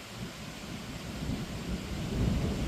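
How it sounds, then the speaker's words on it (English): Thunderstorm rolling over a drag-racing track during Pro Stock qualifying at a nationals event: a continuous low, rumbling thunder with steady rain noise that swells slightly louder toward the end, with no voices. "we have a thunderstorm happening"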